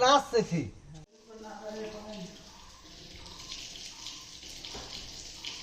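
Water running from a household tap, a steady soft rushing stream that carries on after a few brief opening sounds, with someone speaking nearby over it.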